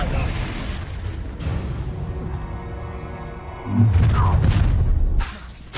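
A Confringo blasting-spell explosion in Hogwarts Legacy, a booming blast with rumble that swells loudly near the end amid combat noise, with a voice shouting spell names.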